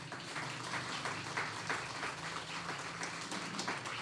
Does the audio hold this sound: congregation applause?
yes